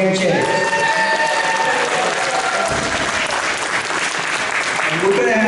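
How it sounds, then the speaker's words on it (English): A crowd at a congressional campaign launch party applauds loudly and steadily for the whole stretch, and a voice speaks over the clapping. "A round of applause for Joanne Chase."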